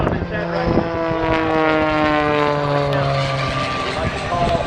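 Oracle Challenger III aerobatic plane performing upside-down maneuvers at the EAA AirVenture show in Oshkosh, Wisconsin, its propeller engine droning loudly with shifting pitch as it flies. A commentator talks over it.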